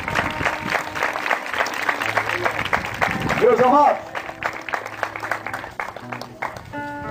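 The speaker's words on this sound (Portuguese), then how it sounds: "uma salva de palmas para o Senhor Jesus" A church congregation applauds in praise, a dense, sustained wash of clapping from many hands filling the room, while a preacher's voice speaks over it and a brief cry rises midway.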